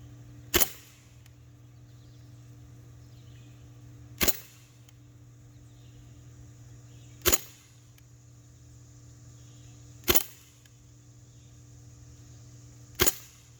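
Five sharp, loud single shots from an Umarex Strikeforce CO2 BB gun fired over a chronograph, spaced about three seconds apart with a faint steady hum between them.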